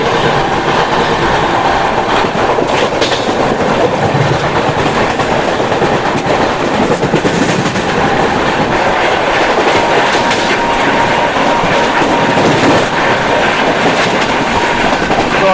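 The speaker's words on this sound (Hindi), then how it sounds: "crossing Kolkata express" The Kolkata Express rolls past in a loud, continuous rush of rumbling wheels and rattling carriages with clickety-clack rhythm, heard up close from aboard a Ranchi to Delhi train journey in Jharkhand.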